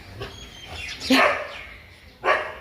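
A dog barks a few times at close range, with sharp separate barks and short yips over a quiet indoor background. No one talks.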